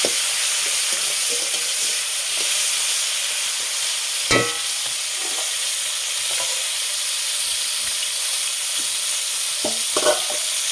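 Kalla fish frying in a pan for an egg curry gives a steady close sizzle throughout, with a few sharper crackles and spatters popping out near the start and end.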